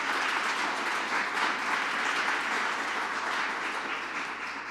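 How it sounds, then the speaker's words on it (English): An audience at a White House equity convening breaks into a round of applause, a dense, even wash of clapping from a large crowd that holds steady and then eases slightly in volume. "So let's give a round of applause for that."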